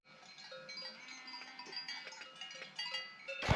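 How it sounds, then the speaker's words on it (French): Sheep bleat faintly in a mountain setting on a trek, a few soft, wavering calls over quiet background, with no voices. "On dort avec les moutons cette nuit."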